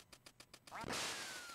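In Duck Hunt on a PS Vita, a quick run of rhythmic electronic pulses leads into a loud, raspy duck quack that blends into a bright burst of game noise.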